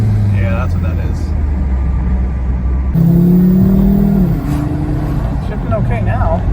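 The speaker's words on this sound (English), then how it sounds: "It still sounds like there's a boost leak." A Volvo V70R wagon's turbocharged engine revs with a suspected boost leak from a cracked charge pipe, a loud rumbling drone that rises and settles, while people talk over it.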